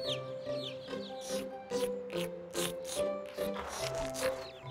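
Cartoon baby birds in a backyard nest cheep hungrily, with busy, repeated high chirps over a sustained tonal background.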